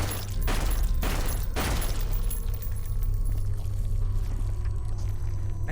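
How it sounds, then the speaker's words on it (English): Gunfire erupts in a horror survival video game set in a police station: three quick close shots at the start, followed by a long rumbling, roaring ambience that continues steadily, with no voices. "I'm just gonna shoot him with a gun"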